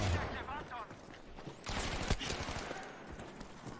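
Suomi submachine gun firing in the Battlefield video game, with bursts of rapid gunfire and a louder volley midway, mixed with game noise while players talk.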